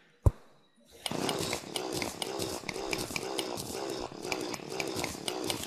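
Drill digging through blocks in the Terraria video game, a harsh buzzing grind that starts after a sharp click and pulses rhythmically, loud and steady for several seconds.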